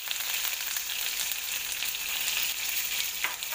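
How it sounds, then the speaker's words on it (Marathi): Cumin and mustard seeds fry in hot oil with asafoetida in a kadhai, giving a steady, close, bright sizzle with faint crackles throughout and no talking. "जिरं आणि मोहरी छान तळतळली आहे."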